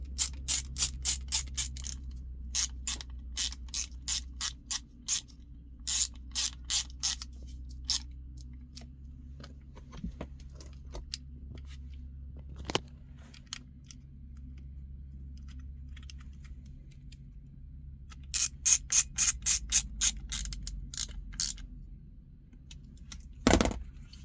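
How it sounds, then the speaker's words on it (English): Screws are driven into a semi truck gear shift knob, giving quiet, rapid ratcheting clicks in repeated short bursts with pauses between, close by over a faint low hum. "I'm gonna go ahead and put the two screws right here."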